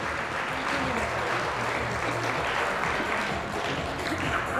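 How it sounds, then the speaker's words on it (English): Steady applause from a crowd at a women's bikini competition, dense clapping filling the room at an even level from start to finish. "Round of applause, please."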